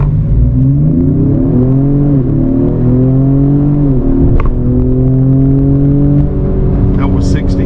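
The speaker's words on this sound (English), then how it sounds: "I'm gonna go over here to one of my favorite spots and really open it up and see what it's got from kind of a standstill" A 2025 Ford Explorer ST accelerating hard from a standstill, loud engine rising through gears with rising then dropping pitch at each shift, steady road roar beneath, heard from inside with a voice over it.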